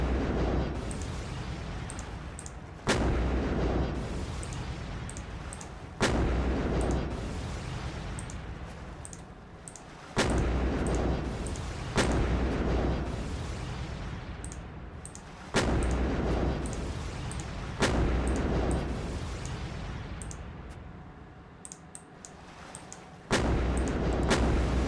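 Artillery fire pounds enemy factories and infrastructure in a strategy video game during an invasion of Australia, with loud booming shots landing every few seconds, each followed by a rumbling decay, and no talking.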